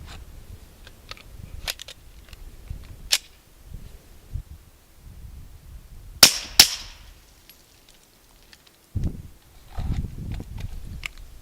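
Suppressed Glock 34 pistol fitted with a Silencerco Octane 9 HD suppressor, firing Federal 147-grain subsonic rounds: two sharp, dulled cracks in quick succession, standing out against quiet outdoor background with faint scattered knocks.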